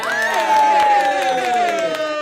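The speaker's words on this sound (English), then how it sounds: "we've got real people to applaud" A live crowd at an improv podcast taping claps and cheers. A sustained, sliding whoop rings out over the scattered clapping for a couple of seconds.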